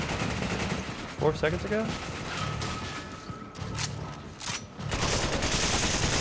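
Rapid bursts of automatic gunfire from a Resident Evil 5 zombie-apocalypse shootout, loud and close with metallic mechanical clanks, while a voice speaks briefly over the game sounds.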